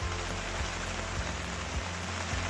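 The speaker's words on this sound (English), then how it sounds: "I hate packing up in the rain." Rain falling at a fishing lake, a dense, steady patter of raindrops on surfaces, close and continuous with no voices.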